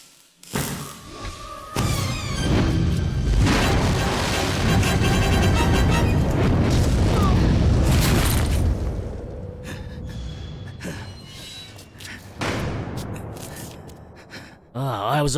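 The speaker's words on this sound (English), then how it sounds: "Explosion!" Video game explosion: a sudden loud boom that swells into a long rumbling roar for several seconds, then decays with scattered thuds and debris sounds, with a person reacting vocally nearby.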